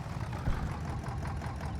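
A tractor engine in the video game Farming Simulator 22 chugs at a steady low idle-like rumble, moderately quiet and continuous with one brief swell.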